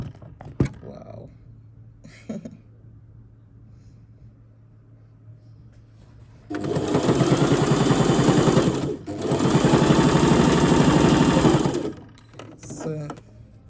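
A sewing machine stitches a mattress cover in two loud, steady runs of rapid, rhythmic whirring separated by a brief pause, with a few quiet knocks and handling sounds before and after.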